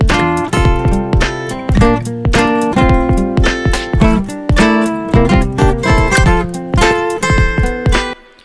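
Acoustic guitar lead lines recorded through a microphone, a run of bright plucked notes and chords in a steady rhythm, close and clear, playing alone for several seconds before ringing out.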